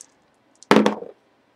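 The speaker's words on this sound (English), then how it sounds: "We're going to roll the dice and see who wins this." Dice tumbling onto a surface during a sports-card box break, a short burst of close, clattering knocks lasting about half a second, alone in an otherwise quiet room.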